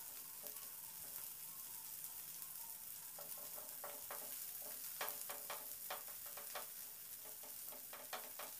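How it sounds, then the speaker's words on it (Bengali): Coriander leaves sizzle and crackle in hot oil in a pan as they are stirred, with steady frying hiss and sharp popping bursts growing busier toward the end, quiet and close. "এই ধনেপাতাটাকে হালকা করে একটু নাড়াচাড়া করে নেব তেলের উপরে।"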